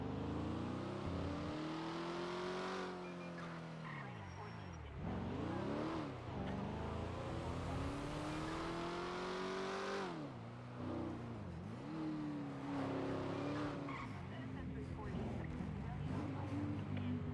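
A car engine in a roleplay video game, revving up and down in repeated sweeps, loud and close, while a person talks over it.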